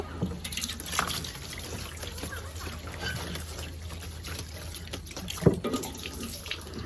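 Running tap water splashes over a woven bamboo basket for steaming sticky rice as it is rinsed, a steady close trickle with scattered drips and small clatters throughout.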